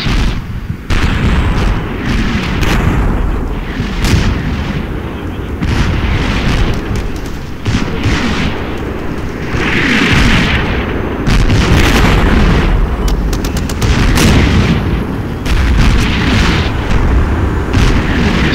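Heavy artillery and 105mm high-explosive tank rounds pound infantry trenches in the Combat Mission: Shock Force wargame, a dense, continuous barrage of loud booms and blasts with repeated sharp bursts over a rumbling background.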